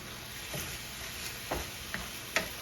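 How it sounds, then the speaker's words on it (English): Ground turkey browning in a skillet, a constant soft sizzle with a few light scrapes and taps as it is stirred now and then, close and quiet. "I'm just going to keep kind of checking in and stirring this up while it's turning brown."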